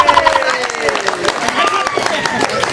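Audience clapping during a Maithili comedy skit, a short burst of hand claps mixed with crowd murmur.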